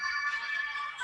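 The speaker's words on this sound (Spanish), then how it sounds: "Ya me está avisando que tengo que tomarles examen en mi celular" A mobile phone alarm plays a short bright electronic melody, tonal and steady with high chiming notes, heard faintly at a distance for about a second in a quiet room.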